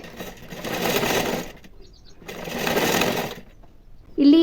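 A sewing machine stitches a cross belt in two sustained whirring bursts separated by brief pauses, followed by a short voice at the end.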